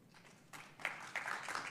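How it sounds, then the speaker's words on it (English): Applause breaks out in a city council chamber, a scattered, fairly distant patter of clapping that starts thin and builds into a fuller burst of many hands over a quiet room. "I'm unfortunately not allowed to allow applause in the chamber"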